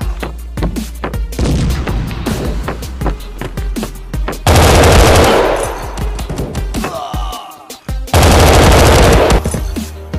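Rapid bursts of automatic gunfire from a video game firefight, loud and dense, with sustained volleys broken by brief pauses and a heavy crashing blast midway.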